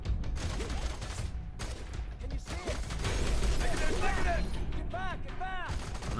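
Gunfire from the shooter game Fear 3 crackles in dense, overlapping bursts that swell louder midway, with a few whooshing, whistling sweeps near the end and a voice speaking underneath.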